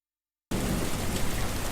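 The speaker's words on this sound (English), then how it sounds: "The rain is soaking." After a moment of silence, steady rain hisses in abruptly, a dense, even wash of falling drops with no voices.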